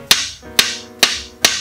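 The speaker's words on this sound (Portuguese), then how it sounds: "Então o segredo tá nas marteladas finais." Four sharp, evenly spaced hammer blows tap a wooden form into place while a refractory brick barbecue is being built. Each close, ringing knock falls about half a second after the last.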